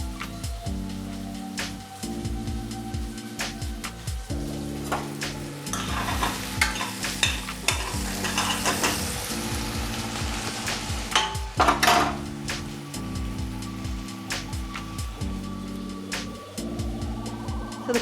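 Chopped raw cauliflower fries in a pan and is stirred over and over with a utensil. Close, rhythmic scraping and clanking sit over a steady sizzle, with no talking.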